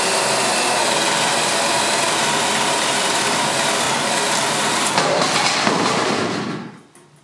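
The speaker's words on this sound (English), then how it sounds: "After marking all the light locations, it was time to start drilling." A power drill bores through wooden wall top plates during electrical rough-in wiring for lights, a loud continuous grinding whir that runs steadily and then winds down near the end, with no talking.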